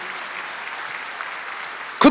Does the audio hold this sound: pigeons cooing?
no